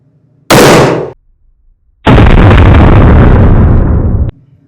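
Two loud gunshot blasts from a reloading test session: a sharp crack followed after a pause by a longer, booming shot that rolls on for about two seconds before cutting off.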